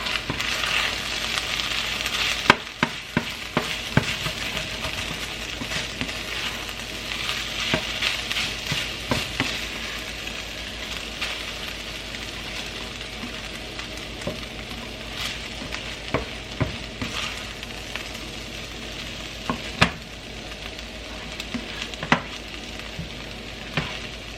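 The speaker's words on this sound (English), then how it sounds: "I'm going to go ahead and give that a really good stir" A vegan harvest scramble sizzles in a hot pan while a utensil stirs it vigorously, giving a steady crackling hiss with frequent scrapes and knocks over about twenty seconds.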